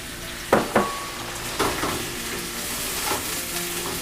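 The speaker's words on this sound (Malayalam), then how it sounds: "നമ്മളൊരു വെളുത്തുള്ളിയും ഇഞ്ചിയൊക്കെ ഒന്ന് മൂത്ത് വരുന്നതിന് മണമുണ്ട്" Garlic and ginger frying in a pan for chilli beef sizzle steadily and close up, with a few sharp spatula scrapes and stirring knocks in the first half.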